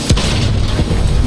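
A tank blowing up in Battlefield 1, heard as a loud, roaring broadband blast with a sharp hit at the start and a thick rumbling roar that carries on throughout.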